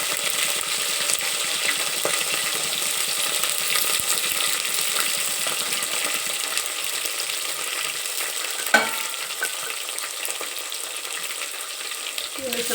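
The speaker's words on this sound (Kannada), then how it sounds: "ಹುರಿದು ಈಗ ಕಾಳದೆಲ್ಲ ಕರಿಬೇವು, ಮೆಣಸಿನ್ಕಾಯಿ ಫಸ್ಟ್ ಹಾಕೊತೀನಿ ರೀ." Curry leaves, green chillies and onion fry in hot oil in a pan for hotel-style vegetable pulao, a continuous even sizzle with one brief clink of a utensil partway through.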